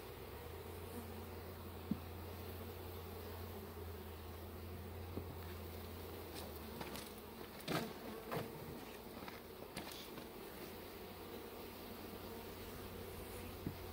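Honey bees droning around a hive during package installation, a faint continuous buzz with a few soft knocks and rustles partway through.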